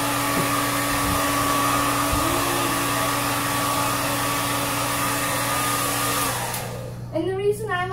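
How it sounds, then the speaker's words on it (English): A blow dryer drying a dog's fur after a bath, a loud steady whirring hum running continuously up close, cutting off near the end as a voice begins to speak. "now I got out the blow dryer"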